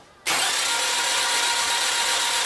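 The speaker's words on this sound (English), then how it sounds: "this is what you're going to hear when you have no compression or open valves" After a brief quiet moment, the engine of a 2005 Volvo XC90 T6 with a failed head gasket and no compression cranks abruptly into a fast, even, whirring spin with no firing, loud and steady to the end.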